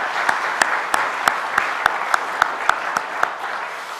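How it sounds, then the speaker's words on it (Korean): A church congregation applauds during a Sunday worship service, a broad wash of clapping overlaid with a regular beat of sharper, louder claps keeping steady time. "하나님께 영광의 박수를 돌릴까요?"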